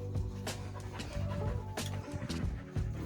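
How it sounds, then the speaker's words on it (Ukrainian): A dog pants rapidly and rhythmically close by, with quick breathy puffs and a few faint whimpers, outdoors in a forest setting. "Так, це наша собачка."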